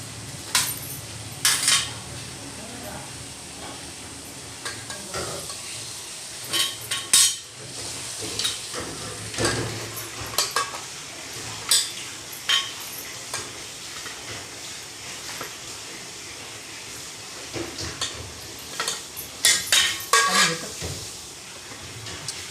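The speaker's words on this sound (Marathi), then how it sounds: "आता आपण त्याच्या वड्या कापून घेऊया" A knife cuts a rolled log of mixed-flour kothimbir vadi dough into pieces on a board, giving repeated sharp taps and scrapes in uneven bursts over a steady low kitchen hum.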